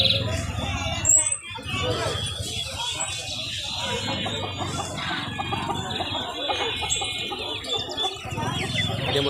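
A rooster and hens clucking at a busy Friday bird market, with scattered clucks and chirps mixed into a continuous crowd murmur while people talk nearby.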